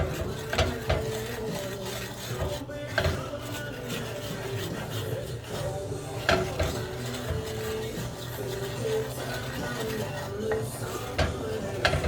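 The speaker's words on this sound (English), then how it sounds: "We're gonna stir that around," A spoon stirs seasonings through foaming butter in a pan: continuous scraping and clinking over a steady sizzle, with someone talking over it.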